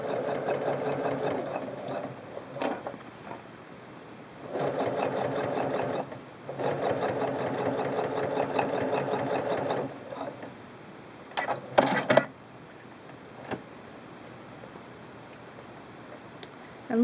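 A Singer Quantum Stylist 9960 sewing machine fitted with a braiding foot stitches black cording in fast, steady bursts, with pauses and small clicks between runs of rapid needle chatter.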